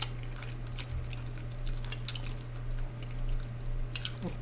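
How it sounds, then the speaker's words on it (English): Close, wet chewing of pig tripe soup with mozzarella, carrot and shiitake mushrooms, steady squishy mastication with soft crunchy bites, no talking, over a low steady hum. "And then chew it a lot."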